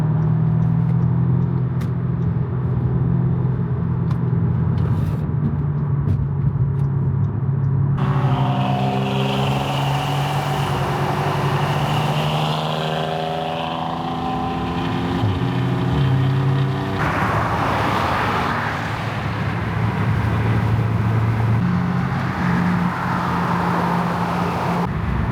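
Cars drive between car meet locations in the Pacific Northwest, a loud, steady engine drone heard from inside a moving vehicle, shifting pitch as it accelerates and changes gear, with rising and falling revs and road roar throughout.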